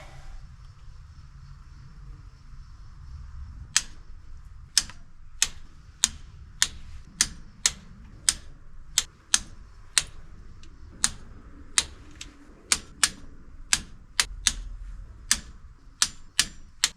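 A torque wrench tightens cylinder head bolts on a small-block Chevy engine to 50 foot-pounds: a long series of crisp, evenly spaced ratchet clicks over a low background hum, close and fairly loud.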